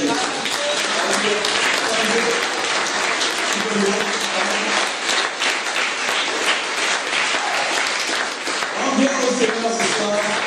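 A church congregation applauds, steady dense clapping filling the room for several seconds, with voices mixed in beneath.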